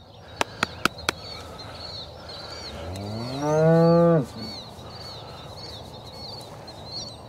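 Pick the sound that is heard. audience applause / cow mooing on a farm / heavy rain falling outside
cow mooing on a farm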